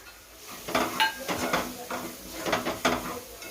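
A spoon scrapes and clinks in a pan as chili powder, coriander, turmeric and garam masala are stirred into roasted ginger and garlic, several distinct knocks at an uneven rhythm, close and moderately loud.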